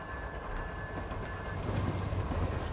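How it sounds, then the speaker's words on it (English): A freight train passing in Train Simulator 2020, a low rumbling roll with faint wheel clatter that builds slightly toward the end. "Looks like that's going to be our empty rock train."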